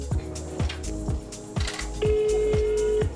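A phone rings out repeatedly through a call, with loud, regular rings of a mobile handset recurring about every half second, nearly alone in the clip.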